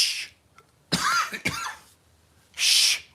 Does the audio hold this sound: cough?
yes